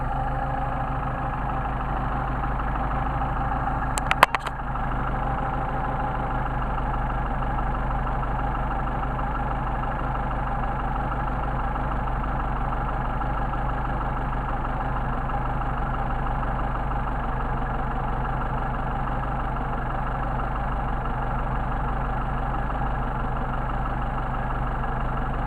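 A Mercedes 190SL engine fitted with Solex carburetors idles steadily while warming up, a continuous low, even drone that stays unchanged throughout, broken only by a brief sharp knock near the start.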